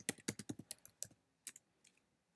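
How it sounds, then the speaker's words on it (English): A computer keyboard struck in a quick run of close, crisp keystrokes, then a few scattered taps trailing off into quiet, fairly faint overall with no talking. "Type in Noble Group."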